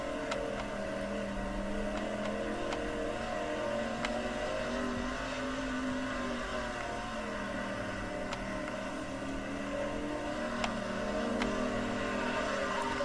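A sprint car engine drones steadily through a racing lap in World of Outlaws '23, a continuous mid-level whine with no breaks and no voices.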